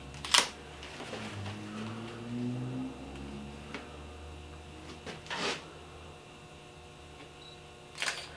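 A camera shoots photos of motorcycle wheel spokes during a wheel rebuild, with three or four separate sharp shutter clicks spaced seconds apart over a quiet room hum.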